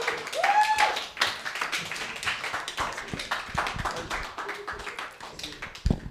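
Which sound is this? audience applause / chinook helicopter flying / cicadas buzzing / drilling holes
audience applause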